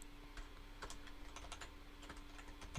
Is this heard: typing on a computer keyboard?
yes